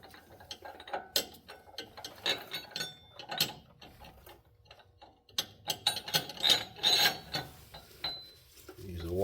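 A strap is ratcheted tight during a Pacbrake airspring install on a RAM 2500, with bursts of sharp close clicking from the ratchet pawl, pauses between strokes, and a faint scrape at the end.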